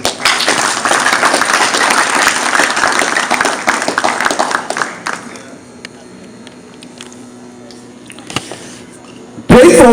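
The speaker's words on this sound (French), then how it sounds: "Je vous demande, chers invités, de les applaudir." Guests at a Play it Forward tenth-anniversary evening applaud the students with dense, loud clapping for about five seconds, which then thins into quieter room noise with a few scattered claps.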